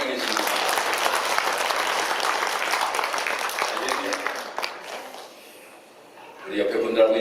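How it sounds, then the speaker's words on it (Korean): Congregation at a Korean church Sunday service applauds for a choir competition, a full burst of clapping that tapers off and fades to near quiet before a voice begins speaking. "다시 한번 우리 찬양대회를 위하여 박수하도록 하겠습니다"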